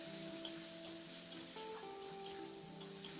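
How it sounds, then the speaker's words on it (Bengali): Spice paste with tomato and a splash of water is sautéed and stirred in a pan, giving a steady quiet sizzle with regular scraping strokes about every half second, while soft tonal music plays underneath. "এবার সামান্য একটু জল দিয়ে এই মশলাটাকে খুব ভালো করে এটাকে কষিয়ে নেব।"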